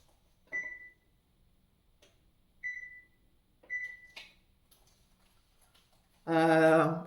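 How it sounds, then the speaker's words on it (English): Oven control panel being set to 350 Fahrenheit for baking cheese buns: three short, clear electronic beeps spaced apart, a few faint taps, then a longer loud tone at the end, close up in a quiet kitchen. "So I'm gonna go to my oven and put it on 350 Fahrenheit."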